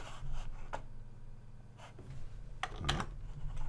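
Scattered keystrokes on a computer keyboard tap at an irregular pace, quiet and close, with a few louder clacks among them over a low background hum.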